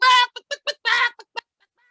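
A man imitates a clucking chicken with his voice, a loud drawn-out squawk followed by a string of short clucks, another long squawk and two more quick clucks, all close and alone.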